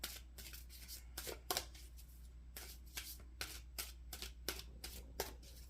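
A traditional Marseille tarot deck is shuffled close by, a quiet series of crisp riffling bursts and soft card flicks in an irregular rhythm, with no talking.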